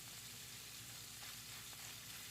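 Sausage browning in a pan alongside onions boiling away, giving a steady, dense sizzle and bubbling hiss that holds evenly throughout, fairly faint with no voices.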